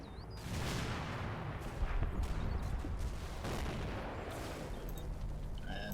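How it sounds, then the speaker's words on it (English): Sustained battlefield gunfire from the Normandy WWII game Combat Mission: Battle for Normandy, a dense rolling barrage of overlapping shots and booms, loud and continuous with no pauses. "Getting shot at."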